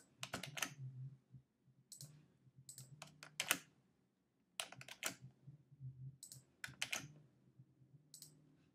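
Close computer keyboard typing in short bursts of crisp key clicks, the pattern of repeated Ctrl C and Ctrl V copy-paste shortcuts, with brief quiet gaps between groups of presses.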